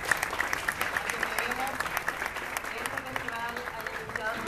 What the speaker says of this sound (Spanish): para quien pido un fuerte aplauso, por favor